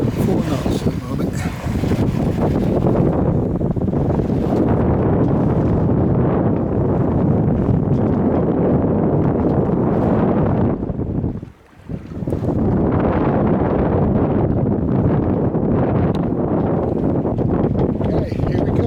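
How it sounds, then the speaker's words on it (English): Steady, loud wind roars over the microphone aboard a 22ft Macwester sailboat under full sail at sea, the motor off, with a brief lull partway through before the gusting resumes. "it's windy out here, it's cold and chilly"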